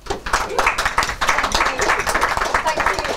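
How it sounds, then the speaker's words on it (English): Warm round of applause from a small crowd at a Christmas social gathering, close, dense clapping that rises quickly and carries on steadily for a few seconds. "So please give her a warm round of applause"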